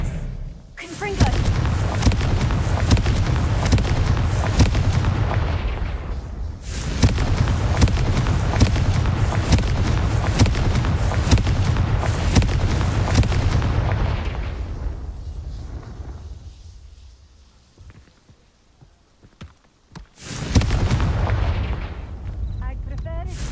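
Repeated heavy explosion blasts from the Confringo fire spell in the Hogwarts Legacy video game, several loud booming bursts with long rumbling tails, a quieter gap, then another blast; a character speaks briefly.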